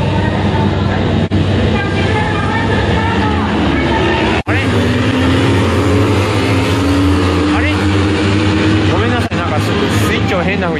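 A 250cc two-cylinder entry-class racing motorcycle is push-started in the pits at Tsukuba Circuit, its engine catching and droning loudly with rising and falling revs over constant mechanical noise, while people talk nearby.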